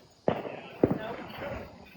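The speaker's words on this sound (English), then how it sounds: "Can you see the fireworks?" Fireworks set off in a residential street, two sharp bangs about half a second apart followed by a fainter crackle, heard from nearby with a little background voice.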